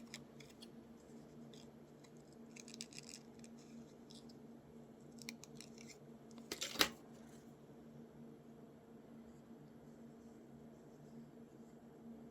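Scissors snip paper for a collage in a quiet room: a few soft, scattered cuts, then one sharper, louder snip partway through, with faint background hum and no talking.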